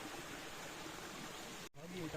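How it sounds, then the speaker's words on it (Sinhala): A clean mountain stream flowing along the Udamaliboda Sri Pada forest trail at Kuruwella in Sri Lanka, a steady broadband rush of water held close and constant, cut by a brief dropout near the end. "හරිම පිරිසිදු ලස්සන වතුර පාරක්"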